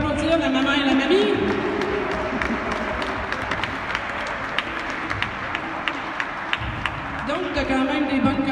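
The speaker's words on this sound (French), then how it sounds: "on peut applaudir la maman et la mamie" Audience applause for a new mother and grandmother at a French-language stage show, steady clapping filling the room with talk over it at the start and end.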